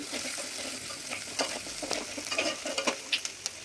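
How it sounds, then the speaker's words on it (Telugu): Onions frying in a pan for a simple potato curry: a steady close sizzle with scraping stirs that grow more frequent toward the end. "ఉల్లిపాయలు వేసాక మంచిగా వేగాక"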